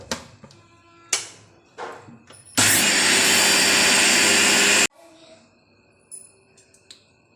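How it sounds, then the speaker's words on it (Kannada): A loud, steady mixer grinder whir, grinding soaked rice with a little water, runs for about two seconds mid-clip, framed by scattered clicks and knocks before and after. "ಅದನ್ನ ಸಣ್ಣಗಾಗೋವರೆಗೂ ರುಬ್ತೀನಿ"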